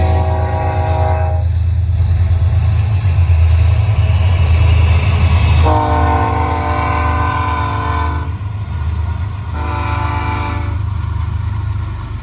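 A heavy train rumbles past continuously, loud and close, with a deep steady drone and several long blasts of its horn.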